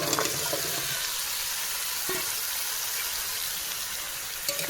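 Raw jackfruit is stirred into spiced oil and fries, making a steady, loud, close hiss of sizzling. A spatula scrapes briefly at the start, in the middle and at the end.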